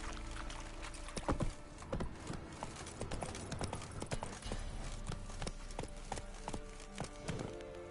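Horse hooves clip-clop in The Witcher 3: Wild Hunt, irregular clopping steps close by with some watery, splashing texture mixed in, quiet overall.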